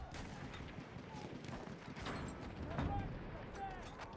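Mortar fire in Battlefield 1, distant muffled thuds and blasts under steady battlefield rumble, faint and scattered, with a voice speaking over it.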